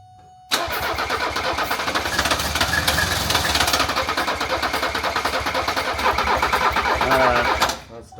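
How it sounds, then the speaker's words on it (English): Starter cranking a 1978 Mercedes 300CD engine during an engine swap, a loud steady churning drone that runs about seven seconds without catching, then cuts off; voices are faintly present nearby. "That starter's running hot."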